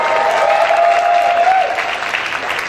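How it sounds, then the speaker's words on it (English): Audience applause at a college activities conference showcase for a spoken word artist, a dense, steady wash of clapping from a crowd that holds loud for nearly three seconds before easing slightly. "Clap for her."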